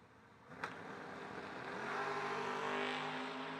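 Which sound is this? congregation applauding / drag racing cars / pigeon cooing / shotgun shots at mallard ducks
drag racing cars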